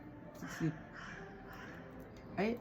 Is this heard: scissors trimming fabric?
no